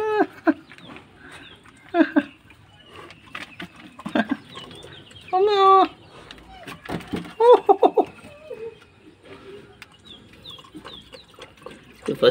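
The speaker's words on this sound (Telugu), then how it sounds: "బయట వాళ్ళు వస్తే అటాక్ చేస్తుంది వెరీ డేంజర్ డాగ్" A dog barks in short loud bursts outside near chickens, with hens clucking and a rooster crowing among scattered farmyard noise, and people speaking now and then.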